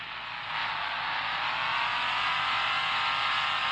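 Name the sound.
Jeep engine drifting in low gear, Offroad Outlaws video game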